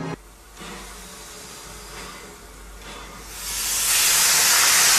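Steam train venting steam on the Isle of Wight, a low rumble with a steady hiss that swells into a loud, broad rush near the end, with no talking.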